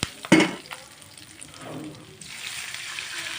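Semiya being stirred in a pan with drumstick leaves and turmeric, a sharp scrape and clatter near the start, then a soft sizzling hiss that builds steadily toward the end, with no talking.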